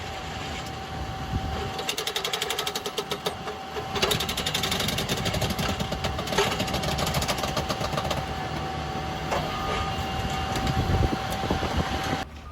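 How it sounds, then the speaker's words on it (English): A railroad spiking machine drives spikes into track ties with loud, rapid mechanical hammering bursts over a droning engine and a steady whine, close and continuous. "Spiking is next, probably the loudest task."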